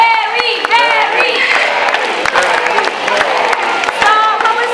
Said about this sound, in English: clap your hands and shout his name